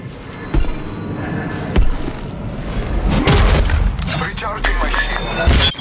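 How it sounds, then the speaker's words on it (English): Apex Legends Mobile gameplay carries loud booming gunfire bursts and impacts, several sharp shots followed by heavier rapid volleys toward the end, with game voices speaking over the action. "Getting shot at from squads."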